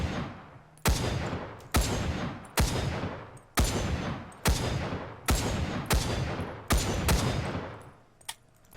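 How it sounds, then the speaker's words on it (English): SKS semi-automatic rifle in the Vietnam-era shooter Rising Storm 2: Vietnam fires eight loud, heavy shots at a steady pace of roughly one per second, each a sharp crack followed by a booming decaying tail, with no talk. "Next up is the SKS, and I really like this one a lot because it sounds very powerful"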